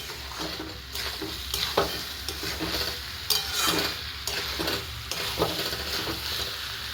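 Rice, vegetables and chicken fry together in a pot while being stirred, a continuous sizzle with repeated scraping strokes of a utensil against the pot, close and moderately loud, no voices.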